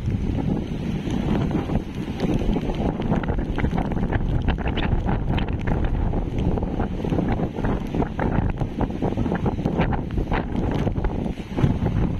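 Strong Super Typhoon Pepito wind roars steadily at a coastline where fishing boats are moored, a loud, unbroken gusting rush battering the microphone throughout.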